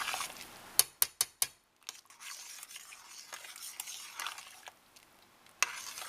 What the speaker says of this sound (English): Just stir them.